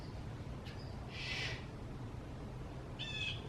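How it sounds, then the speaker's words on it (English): A bird outdoors gives a few short, harsh calls heard at a distance, two distinct bursts separated by a pause, over a steady hissing background with no talk. "Keep talking where you can't hear the bird."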